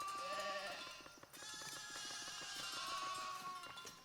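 Sheep in the colony-sim video game Foundation bleat repeatedly in short wavering calls over soft ambient game music, faint overall with a brief dip midway.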